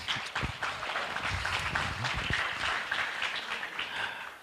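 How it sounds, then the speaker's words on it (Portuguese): An audience applauds at a meeting, a steady wash of clapping at moderate distance that lasts a few seconds with no distinct speech. "Um aplauso."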